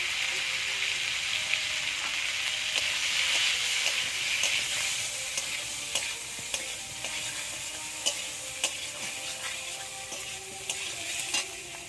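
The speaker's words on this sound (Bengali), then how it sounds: "এবার আমি ফুলকপিটা ওই তেলে ভেজে নেব।" Cauliflower pieces frying in hot oil with turmeric and salt give a steady, close sizzle, broken by repeated sharp clicks and scrapes of a spatula stirring the pan.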